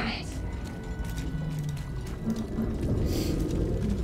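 A mechanism activates in Baldur's Gate 3 after an item is placed in a socket, giving a continuous ratcheting, grinding clatter of gears that runs steadily throughout.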